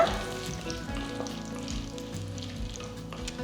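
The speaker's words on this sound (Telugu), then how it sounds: "జీడిపప్పులు కొంచెం లైట్గా రోస్ట్ అయిన తర్వాత" Cashews roast in ghee in a pan, a steady close sizzle with light stirring and clinks throughout.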